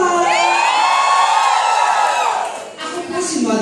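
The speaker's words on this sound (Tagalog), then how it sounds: "May namang malakas na sigawan." A crowd shouts, whoops and cheers loudly, raised voices layered into a sustained roar that dips briefly before picking back up.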